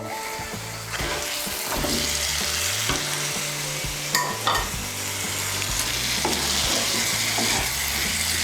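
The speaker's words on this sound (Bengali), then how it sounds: "আলু আর মটরশুঁটিগুলোকে মশলার সঙ্গে ভালো করে মিশিয়ে নেব।" Fried potatoes and peas being stirred with spices in a hot pan, loud continuous sizzling close up with repeated scraping strokes of a spatula, no voices.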